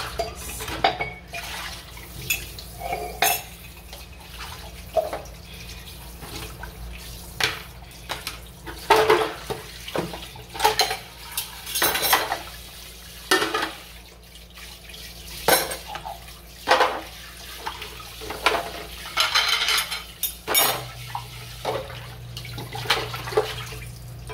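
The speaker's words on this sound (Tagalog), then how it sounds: "Okay, simulan natin ang maghugas. Balawan na natin." A large pile of plates and dishes washed by hand under a running tap, with repeated clatters and clinks of crockery and cutlery over a steady stream of water, close and fairly loud, no talking.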